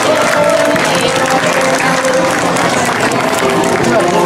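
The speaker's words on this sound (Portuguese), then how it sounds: "Para ela, para a Luísa, uma salva de palmas." Crowd applause during the opening procession and queen's parade of a Portuguese festival, a loud, continuous outdoor wash of clapping and crowd noise with faint voices mixed in.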